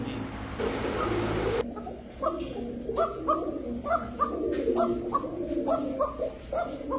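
A Gorra pigeon coos in a repeated rhythmic series of soft, low calls close by, following a short burst of broad rustling noise at the start.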